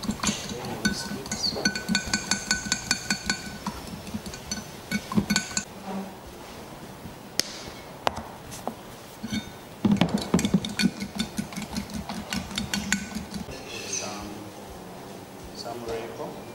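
Metal whisk clinking against a bowl while blending chicken lollipop marinade finished with cooking oil, rapid rhythmic taps close up, with speech over parts of it.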